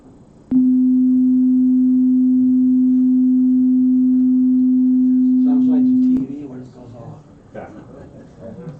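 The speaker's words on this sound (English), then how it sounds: "It's a sine wave." A steady 255 hertz sine wave tone plays through a speaker, pure and loud, holding unchanged for about six seconds before cutting off, after which a person speaks.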